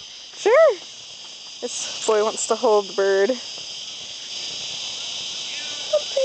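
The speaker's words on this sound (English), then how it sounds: "This is the sound of cicadas." Florida cicadas drone in the trees as a steady high buzzing bed throughout, loud and constant, while people talk nearby and a bird gives several short chirps over it.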